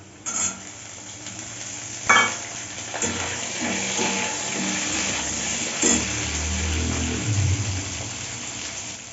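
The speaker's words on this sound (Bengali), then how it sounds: "এবার একটু কাঁচা ছোলা দিয়ে দিলাম অল্প একটুখানি কাঁচা ছোলা দিলাম" Raw chickpeas stirred into potatoes already frying in a pan, with a soft steady sizzle under scraping spoon strokes and a few sharper clinks against the metal.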